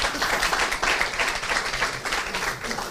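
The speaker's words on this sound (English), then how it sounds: "Can I get a huge round of applause for our panelists here?" An audience applauds panelists at a panel event on funding and career models, a steady wash of clapping from many hands holding at an even level throughout.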